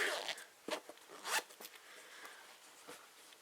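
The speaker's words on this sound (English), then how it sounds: "Let's zip it." A zipper pulled shut along a handmade sewn fabric Emmaline retreat bag, heard as a few short, quiet zipping strokes and scrapes with small pauses between them.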